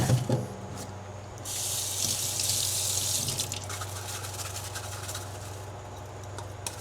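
Tap water runs steadily into a kitchen sink during soapy washing-up while vegan food simmers nearby, a close continuous splashing hiss that swells for a couple of seconds then settles into an even flow, no voices.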